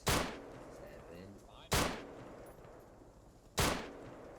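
Gunfire in the video game Spearhead Gaming's Operation Mardi Gras: three sharp, loud shots spaced about two seconds apart, each with a short decaying tail over a busy background.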